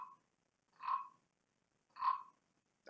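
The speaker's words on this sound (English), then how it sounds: "The frog started singing." A frog croaks twice in slow succession, each a short rasping, nasal call with clear pauses between, heard close and isolated against a silent background.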